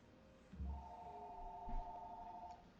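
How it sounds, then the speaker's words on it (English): A telephone rings with an incoming call, two steady electronic ring tones running almost continuously, fairly clear over low background thumps. "we're getting a phone call at this hour"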